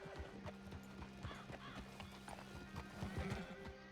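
Rhythmic horse hooves clip-clopping steadily in the video game Red Dead Redemption 2 while a horse whinnies a couple of times, with faint talk and ambient tones behind.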